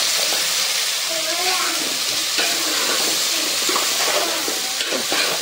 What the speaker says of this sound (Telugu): ఇంకా క్యాబేజ్, కాలీఫ్లవరు అన్నీ కలిపేసేసుకొని ఒక నిమిషము